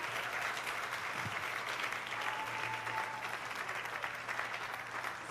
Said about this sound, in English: one last round of applause for our graduates.